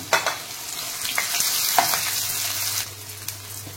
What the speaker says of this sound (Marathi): कांदा, लसूण हे सगळं आपण आधी भाजून घेऊया